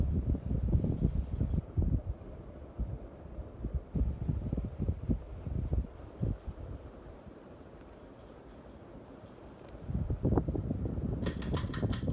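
A 52-inch Litex Crown hugger ceiling fan running indoors, giving a low, steady whooshing hum with throbbing air buffets that ease off midway, then swell again, with light rattles near the end.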